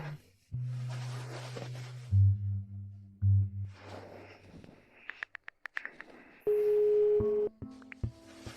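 Phone tones at a telephone call, a steady low dial tone followed by a few short beeps and brief ringback tones, fairly quiet with faint noise between them.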